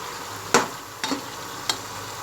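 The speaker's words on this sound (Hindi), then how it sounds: "ये हम तमाम मसालों कीमे में भूनते जा रहे हैं।" Minced meat keema fries with spices in a pot, a low steady sizzle broken by three distinct stirring scrapes spaced about half a second apart.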